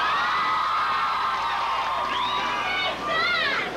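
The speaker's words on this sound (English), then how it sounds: "Let's have everybody there with their loudest voices cheering these guys on." A crowd cheers at a send-off for a Minnesota boys high school hockey team in 1984, a steady loud roar broken by shrill whoops and whistles.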